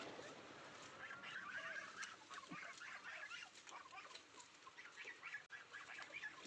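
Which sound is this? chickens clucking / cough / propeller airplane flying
chickens clucking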